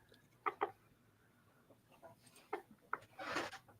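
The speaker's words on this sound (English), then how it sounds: "That is a whole ass chicken." A chicken clucks in short, separate bursts, close and fairly quiet, with a louder flurry of clucking near the end against a still background.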